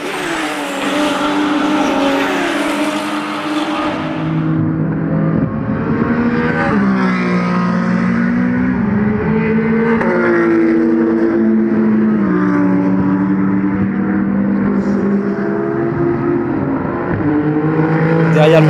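Race cars roar past in a continuous, loud stream of engine noise at the Magny-Cours circuit, with rising and falling revs as a Ferrari and a Porsche battle for position, a commentator talking over the top throughout.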